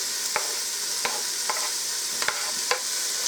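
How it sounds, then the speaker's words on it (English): Celery and peppers sautéing in a soup pot, a bright constant sizzle with a spoon stirring and clicking against the pot about every half second. "Now I'm going to saute those for a little bit."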